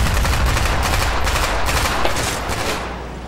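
Sustained automatic gunfire from Black Ops 1 rattles loud and close, with overlapping bursts that thin out toward the end.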